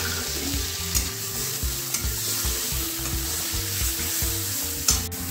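Chopped tomatoes fry in hot oil spiced with turmeric and salt, crackling and sizzling steadily while a utensil scrapes and stirs the pan in a rough, repeating rhythm.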